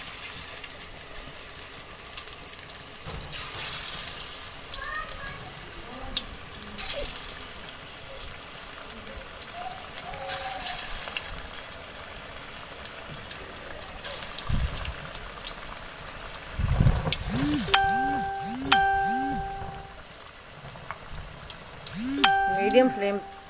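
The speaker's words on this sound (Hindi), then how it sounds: "ये कढ़ाई में ऑयल डाल के मैंने चूल्हे पे रखा, ऑयल गर्म हो चुका है। इसमें हम एक एक करके ये कबाब डाल देते हैं।" Raw potato kebabs frying in hot oil in a kadai, a steady soft sizzle throughout with occasional louder bubbling bursts, close by, under a person talking.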